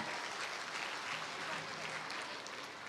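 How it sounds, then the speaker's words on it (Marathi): An audience at a political rally claps loudly to welcome a guest, dense and continuous applause from many hands, fairly distant and even throughout with no single voice standing out. "एकदा आपण त्यांचा पाहुणे म्हणून जोरात टाळ्या वाजवून स्वागत करूयात।"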